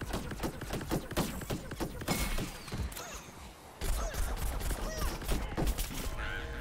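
Rapid bursts of sharp gunshots and crashing impacts from the video game Plants vs. Zombies: Garden Warfare 2, dense and loud at first, a brief lull, then more shots resume.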